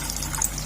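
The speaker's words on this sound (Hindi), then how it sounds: "अब इसके अंदर हम ऐसे आलू इमली का पानी ऐड कर देंगे।" Tamarind water poured into a cooking pot of Peshawari namkeen mutton with potatoes, a brief soft splashing gush of liquid, steady and close, with no talking.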